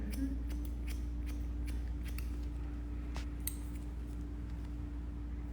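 Scissors snipping fringe bangs on a bob haircut, a series of small crisp cuts over a steady low background hum, close and fairly quiet.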